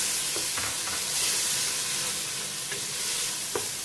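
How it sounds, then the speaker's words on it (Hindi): Three or four green chilies and two finely chopped tomatoes roast in a pan of masala for dhaba-style dal mash: a steady close sizzle and hiss, with a few soft stirring clicks and scrapes scattered throughout. "अच्छे से भून लेंगे हम इनको।"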